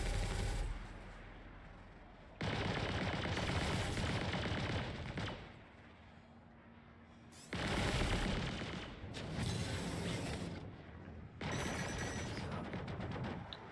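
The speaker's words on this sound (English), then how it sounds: "Really, somebody shooting missiles at me." Missiles and ship weapons firing during a dogfight in the space game Star Citizen, heard as several loud sustained bursts of broadband blasting separated by quieter gaps.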